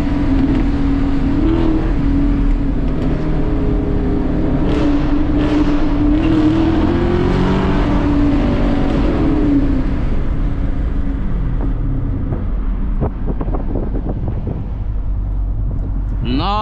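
Chevrolet Camaro SS V8 revving and pulling on a late-night drive, a loud, steady engine drone that swells and falls throughout, with wind noise and some talk over it.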